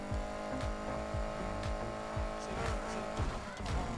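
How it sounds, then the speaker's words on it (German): A car races in Need for Speed Heat, with the engine revving through repeated gear shifts, tire squeals and a skid, all steady and close and heard alone. "Das Auto fährt gerade irgendwie so langsam gegenüber das vorher."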